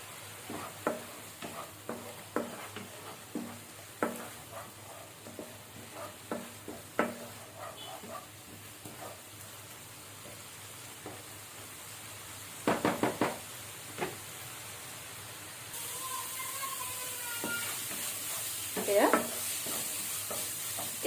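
Jackfruit seed curry cooks in a pan while a spoon stirs it, giving repeated scraping knocks over a soft sizzle. The clatter is irregular and clustered, with a brighter burst of stirring near the end and no talking.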